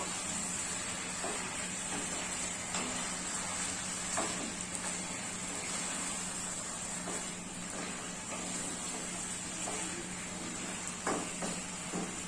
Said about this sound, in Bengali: এখন চিকেনটাকে এইভাবে করে নেড়ে দেবো।